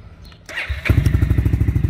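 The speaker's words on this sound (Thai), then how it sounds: "เดี๋ยวเราสตาร์ทรถกันก่อน" A motorcycle engine with Honda engine flush added is started: a brief mechanical clatter and thud, then the engine catches and settles into a close, steady, rapid idle putter.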